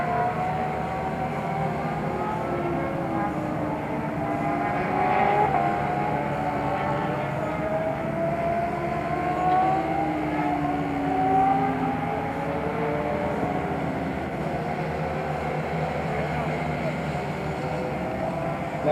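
Small Spec 50 racing motorcycles in a sprint race drone continuously, several engines overlapping with rising and falling whines as they pass, steady and fairly loud throughout without speech.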